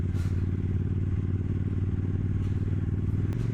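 A Suzuki Marauder motorcycle ridden on the road, its engine a steady, loud low rumble with a throbbing exhaust pulse throughout, and no voices.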